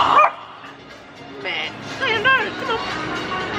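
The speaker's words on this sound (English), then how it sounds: "Guys, there's this really cute dog, and I really want to pet it." A small dog yips and whimpers outdoors in a few brief, fairly close bursts, mixed in with people talking nearby.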